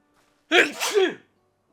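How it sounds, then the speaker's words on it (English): A single loud sneeze, close up, after a brief sharp inhale, then silence. "I'm gonna sneeze."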